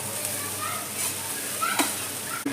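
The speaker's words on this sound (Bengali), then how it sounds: "এর মধ্যে আমি এবার কুমড়ো যে ঘষে রেখেছিলাম কুমড়োটা আমি দিয়ে দেবো তেলের" Grated pumpkin frying in hot oil for stuffed pumpkin paratha gives a steady close sizzle with faint stirring clinks, while a voice talks over it.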